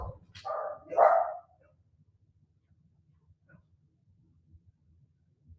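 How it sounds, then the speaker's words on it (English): Dogs bark at someone passing by, two or three quick barks close at the start, then fading to quiet with faint scattered noises; the setting is an indoor yoga class. "Obviously, there was someone walking by, the dogs didn't like it."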